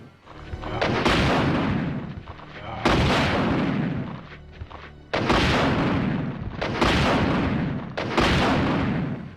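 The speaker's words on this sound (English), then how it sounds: "The Infinite Rocket Launcher, Resident Evil 2." Infinite Rocket Launcher in the video game Resident Evil 2 firing five loud, booming blasts at roughly two-second intervals, each with a long rumbling decay, close and with no talking.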